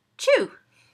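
A single quick sneeze sound made by a voice, a short sharp burst that trails off, imitating a real sneeze.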